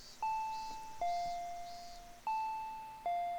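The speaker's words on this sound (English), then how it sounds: "I heard the doorbell ringing." Two-tone doorbell chimes ring twice in a row, each ding-dong clear and ringing out in a quiet room.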